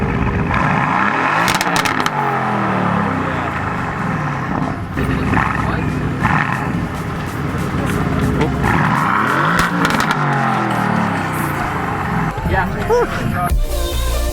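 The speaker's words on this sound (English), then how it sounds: "Oh yes, they're gonna rev this thing." A supercar engine revs at a supercar highway drive event, giving loud repeated rising and falling roars close by, with other traffic noise and people talking around it.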